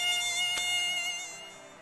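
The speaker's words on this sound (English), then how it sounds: "Mosquitoes in the summer." Mosquitoes buzz in a steady, close, high whine that holds loud and then gradually fades, with no talk.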